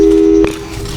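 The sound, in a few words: telephone busy signal in Portal 2 video game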